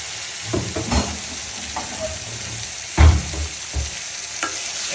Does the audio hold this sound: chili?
yes